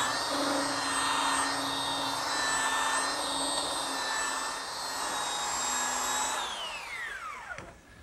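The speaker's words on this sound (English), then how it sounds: "now I'm using my belt sander to remove any of the imperfections left by the saw blade" A belt sander smooths a wooden bed post, a loud, steady, high whirring drone with a rough grinding edge that winds down with a falling whine near the end.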